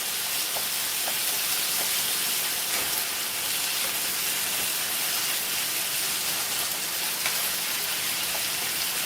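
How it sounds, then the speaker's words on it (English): A steady, dense hiss of frying meat crackles evenly throughout, with faint pops scattered across the constant sizzle. "I'm frying up the ground beef now"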